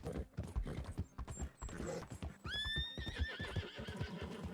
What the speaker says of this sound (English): Well, the horse decided to go this way.